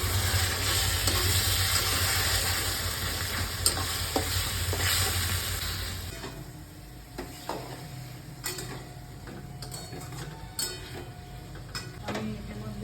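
Ginger paste and tomato paste fry in a pan with a steady close sizzle for several seconds, then the hiss softens while a utensil scrapes and clinks sharply against the pan as it is stirred.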